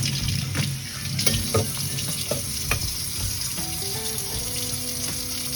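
Tap water pours steadily over saltfish being rinsed in a kitchen, a close, continuous rush with small splashes and shifting tones as the fish is moved under the stream.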